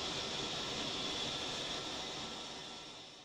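Mirage F1 EE jet engine idling steadily on an airfield apron in the DCS World flight simulator, a constant loud broadband whine and roar with a faint high tone, fading slightly at the end.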